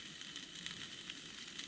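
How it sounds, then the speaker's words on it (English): Sausages cooking over a campfire while camping by a reservoir, giving a steady, quiet sizzle and soft crackle that runs without a break, with no voices. "I'm just cooking up some sausages."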